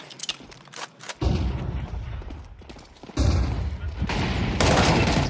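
Rapid bursts of rifle fire in a competitive bomb-site shooter match at a LAN final, loud and clustered in volleys, with voices talking over the action.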